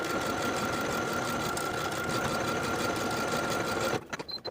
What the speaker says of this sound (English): And now I'm ready to sew each of my 6 buttonholes.